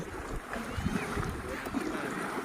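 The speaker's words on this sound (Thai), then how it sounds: "โอ้ดูน้ำแบบเป็นคลื่นใหญ่เลยนะคะ" Flood water sloshing and lapping in broad, continuous waves, with a steady rushing wash and some wind buffeting across the microphone; a moderately loud, close, unbroken churn with no clear talk.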